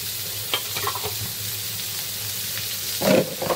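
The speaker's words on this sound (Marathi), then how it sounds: "आता मस्त आपल्या कोलंब्या फ्राय होत आहेत" Prawns frying in a pan in Malvani home style, a steady close hiss of sizzling oil with a few light spatula scrapes and a brief louder stir near the end.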